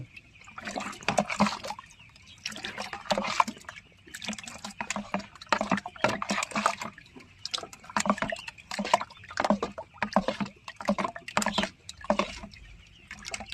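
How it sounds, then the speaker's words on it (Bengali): Egg and milk are stirred together in a bowl, making rhythmic wet sloshing and slapping strokes about once a second, close and fairly quiet, repeating steadily throughout. "এটাকে ভালো করে মিশিয়ে নিই একটু।"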